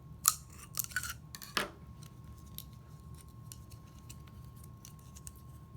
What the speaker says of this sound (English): Now we're also going to cut a slit into the larger straw, but this one is going to be longer, maybe 3 inches.